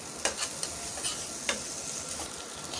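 Garam masala stirred into an egg and potato curry in a hot pan: a soft steady sizzle with a few sharp scraping clicks of a spoon against the pan.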